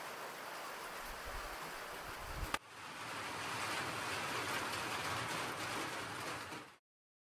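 Heavy monsoon downpour at a hilltop fort temple in the Sahyadri hills, a dense, steady roar of rain that surges after a brief thump and then cuts off abruptly.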